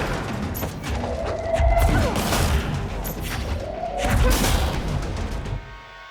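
Two heavy, booming bursts of fire from the big head exploder gun in Control, each a dense crackling blast with a short whining tail, close and loud against a busy game background.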